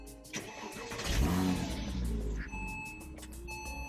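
A 2008 Porsche Cayman 987.1 with a five-speed gearbox cranks and fires up, a brief starter whir rising into a swelling rev before settling to a smooth, steady idle, heard up close.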